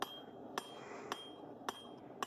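Hammer striking hot steel while forging a small puukko knife blade, four sharp ringing blows at an even, unhurried pace over a quiet background hiss.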